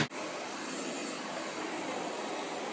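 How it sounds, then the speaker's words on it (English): Miele Kona S8 canister vacuum cleaner running on a rug under a kitchen table, a steady, close, broadband whooshing roar that starts abruptly and holds evenly throughout. "So I just turn that on and I'm able to vacuum this rug under my kitchen"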